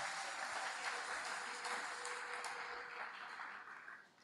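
Church congregation applauding during a worship service, a steady wash of clapping from many hands that fills the room and fades slightly toward the end.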